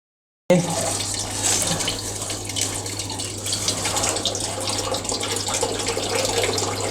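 Steady splashing of water pouring down inside a homemade room cooler built from a pedestal fan and thermocol sheet, a continuous close trickle and gush with a low hum underneath, no voices.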